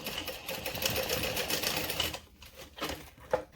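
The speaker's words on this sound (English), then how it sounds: "Go ahead and sew this with a 3/8 of an inch seam allowance." A sewing machine runs a 3/8 inch seam close up, whirring steadily for about two seconds. It then slows into short, separate bursts of stitching and stops near the end.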